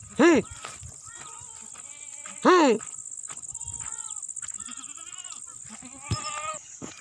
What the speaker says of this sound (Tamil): இதில் உள்ள ஆடுகள்னு பார்த்திங்கன்னா அனைத்துமே விற்பனைக்குள்ள ஆடுகள் தான்